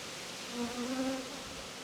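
Honey bees buzzing at an open hive during an apiary inspection of a queenless colony, a steady close drone that swells briefly in the middle, on its own with no talk.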